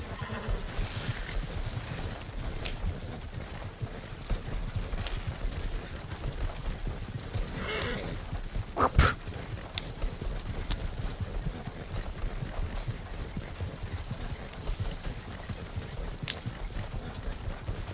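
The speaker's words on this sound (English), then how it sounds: "You can hear the horses when I do that." Horses clip-clop along a road in a roleplay video game, a steady hoof rhythm running through the whole stretch with a sharper burst near the middle and no talk over it.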